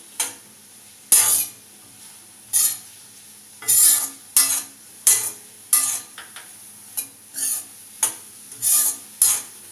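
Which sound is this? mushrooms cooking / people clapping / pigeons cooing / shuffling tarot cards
mushrooms cooking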